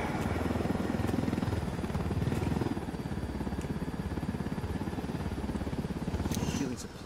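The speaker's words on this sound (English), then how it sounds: "Shooting supply choppers to help." A supply helicopter in the video game Ghost Recon Wildlands gives off a steady, loud rotor thump and engine drone that fills the whole stretch, with speech mixed in over it.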